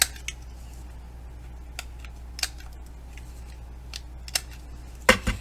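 Scissors trim the corners of a small paper tag for a mini Christmas treat box: a few faint, crisp snips spread over a steady low hum, with a sharper double cut near the end.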